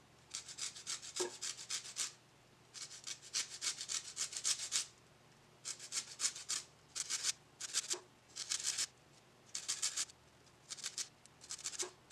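Key lime zest being grated on a fine grater, close, rhythmic scraping strokes in repeated bursts with brief pauses between runs, soft and dry, with no one speaking.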